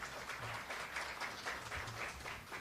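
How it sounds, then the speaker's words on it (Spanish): A seated audience claps to welcome a speaker at a family-themed academic event, the applause faint and distant, a soft continuous patter with a low hum beneath it. "Pido le brindemos un fuerte aplauso"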